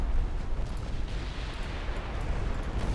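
Torpedo explosions in a naval war game set in the 1939 Norwegian campaign, a deep rumbling boom that rolls on heavily for a few seconds, loud and low.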